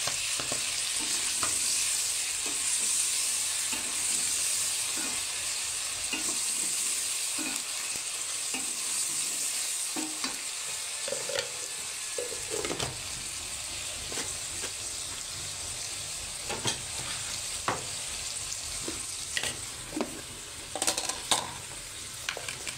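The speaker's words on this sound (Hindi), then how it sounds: "कलेजी को अच्छे से हमने पहले फ्राई कर लेना है" Chicken liver fries with garlic ginger paste in a steady, bright sizzle, with frequent clinks and scrapes of stirring in the pan throughout.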